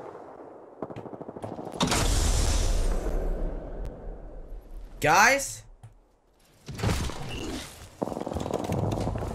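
Bursts of gunfire in Apex Legends crackle in quick volleys, with someone talking over much of it and a sharp electronic sweep in the middle.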